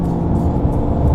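A Ford Mustang with a Whipple supercharger accelerating hard in sixth gear during a roll race, a dense continuous engine roar with supercharger whir, loud and close, no talking.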